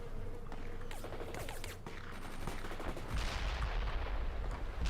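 Battle gunfire in the World in Conflict video game, bursts of rapid shots and scattered cracks over a rumbling background, growing heavier with a deep boom near the end.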